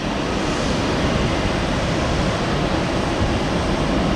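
An airliner bound for Chicago O'Hare rolls down the runway on its takeoff run at Tampa International Airport, a steady, loud, broadband engine roar that holds constant throughout.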